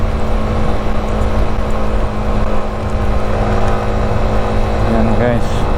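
Cars drive fast past on a wet, slippery asphalt road just after rain, a continuous loud hiss and engine whir with steady traffic noise and brief chirping near the end.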